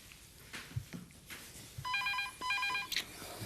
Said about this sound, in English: And I better answer the phone.